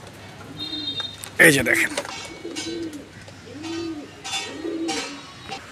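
A light-coloured pair of pigeons being handled, with soft coos repeating low and close, a brief rustle of wings near the start, and someone speaking over them.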